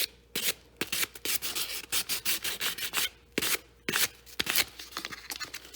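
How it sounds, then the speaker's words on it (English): Close, light rubbing strokes of 120 grit sandpaper on a gold Christmas ball ornament, quick repeated bursts in an uneven rhythm, quiet and alone. "So to sand these, I'm going to use 120 grit sandpaper"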